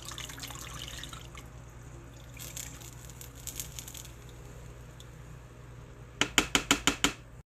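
Strained chile sauce for crockpot birria is poured into the slow cooker, giving faint, quiet splashes and drips, then a quick run of five or six sharp, ringing clinks near the end.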